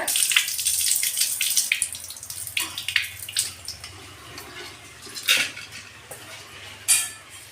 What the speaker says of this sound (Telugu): ముందుగా అయితే ఇగో పెసరపప్పు నానబెట్టిన దీన్ని కడుగుతానా